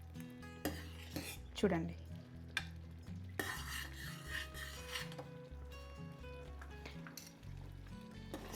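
A spoon stirs egg white through thickened chicken sweet corn soup in a metal pot, with scraping, clinking strokes against the pan and low kitchen hum, a brief spoken word in between.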